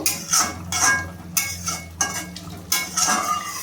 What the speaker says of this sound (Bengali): এবার আমি একটু ভালোভাবে নাড়িয়ে নেব।